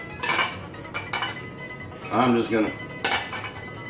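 A clean plate clinks and clatters among dishes in a home kitchen during bacon-and-egg cooking, several short knocks and a rattling scrape at close range, with a voice murmuring faintly in the background.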